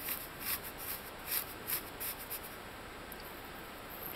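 Stretchy glove material rubbed and pulled over an empty paper towel tube, heard as soft, close rubbing and squeaky scuffing strokes in an irregular rhythm, quiet and alone.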